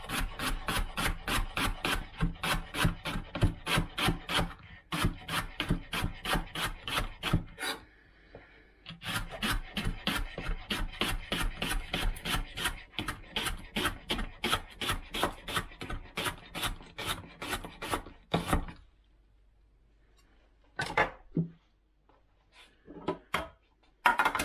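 Finely slicing leeks with a knife on a wooden board, fast rhythmic chopping strokes close up, a short pause, another long run of cuts, then a few isolated taps.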